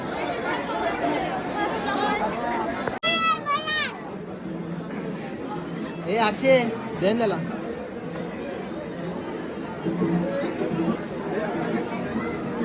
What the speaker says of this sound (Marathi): आज रविवार असल्यामुळे खूप गर्दी.